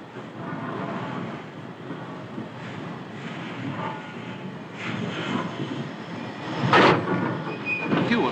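A train at a London terminus station in 1944 gives a low, rolling rumble of carriages that builds slowly. A sharp burst of steam-like hiss comes near the end, and there is no talk.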